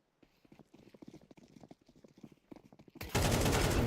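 AK rifle fire in a Counter-Strike match, rapid bursts of sharp shots and clattering steps in an irregular rhythm, ending in a sudden loud wash of noise.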